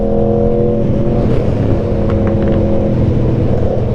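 An Audi RS6 engine rumbles loudly and steadily nearby amid a group of sport motorcycles, a deep continuous drone with a slight rise in revs partway through and no voices over it.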